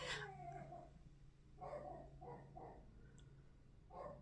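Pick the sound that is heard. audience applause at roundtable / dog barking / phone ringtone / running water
dog barking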